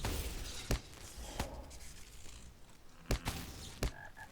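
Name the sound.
toads croaking in a video game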